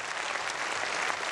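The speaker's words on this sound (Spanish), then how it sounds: "se ganó la ovación de la mayoría del hemiciclo" Members of the European Parliament applauding in the chamber, an ovation of dense, steady clapping from a large crowd, loud and continuous for the short stretch.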